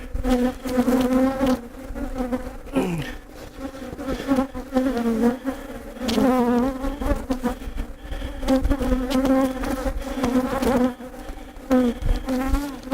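Honeybees from an open, healthy hive with brood frames swarm with a dense, steady buzzing, loud and close, unbroken by voices.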